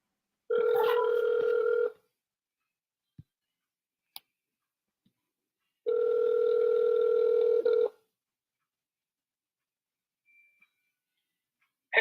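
Two long electronic ring tones sound from a phone call, each a couple of seconds with a pause between, followed by faint clicks and quiet before the line connects.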